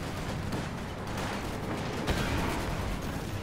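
Panzer Grenadier squad fires a volley in Company of Heroes 2, a dense, steady wash of rifle fire and battlefield rumble with one sharper crack near the middle, no voices.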